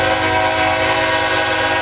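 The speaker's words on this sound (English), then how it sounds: "Kansas City Southern Locomotive is leading a Norfolk Southern train out of Birmingham." A Norfolk Southern freight train led by a Kansas City Southern locomotive leaving Birmingham rumbles steadily and loudly close by, with a sustained engine drone and no breaks.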